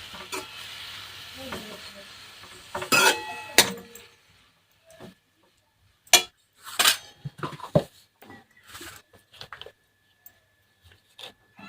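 Dill and spinach greens stirred into a hot pan, with a few clattering spoon-and-pan scrapes and a soft sizzle between quiet gaps, close by and heard alone.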